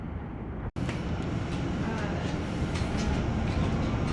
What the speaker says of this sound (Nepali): ल मेट्रो लिङ्क आइसकेको छ है त।